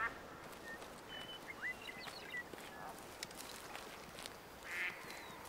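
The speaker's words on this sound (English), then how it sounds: "There's ducks." Wild ducks quack in the hunting video game Way of the Hunter, a few short distant calls scattered over a soft ambient outdoor background.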